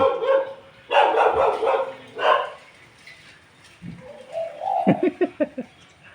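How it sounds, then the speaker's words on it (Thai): A dog barks a few times while doves coo and call nearby, with some voices murmuring in the background. "ฟังทางเสียงสุนัขและก็เสียงนก"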